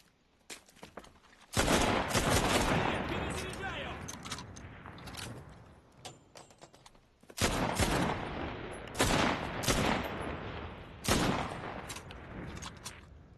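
Rifle gunfire from the video game Enlisted comes in rapid bursts of sharp, loud shots, separated by quieter pauses with footsteps and mechanical clicks, while a player talks at times.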